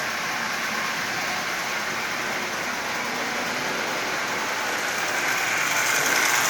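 Marx 490 toy train locomotive motor running steadily, a continuous whirring buzz with rattling texture, close and moderately loud, with no voices.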